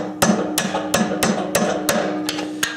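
A glued wood turning blank locked on a lathe is split along the grain with repeated sharp hammer-like strikes, about eight evenly spaced loud knocks close by.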